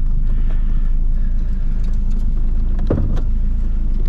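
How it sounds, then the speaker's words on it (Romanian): A 1983 Dacia 1310 with a 1.3-litre 8-valve 54 hp engine idling, a steady low rumble close by with faint clicks on top and no talk. "Să-l auzi și cu motorul pornit."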